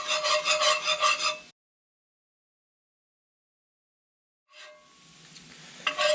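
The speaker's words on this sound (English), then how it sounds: "until we get kind of a nice little paste. Just make sure you keep whisking." A whisk scrapes and rubs through a roux paste in a pan for smoked mac and cheese, a busy scratchy stirring that stops short, then after a pause resumes more softly with faint sizzle.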